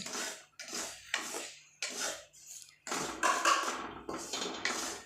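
A metal ladle scrapes and stirs roasting wheat flour in a pan while making milk cake barfi, giving repeated close, rough strokes in uneven bursts.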